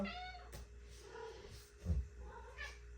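A cat in heat meows several times in quick succession early in the morning indoors, the cries drawn-out and fairly close, with short pauses between them.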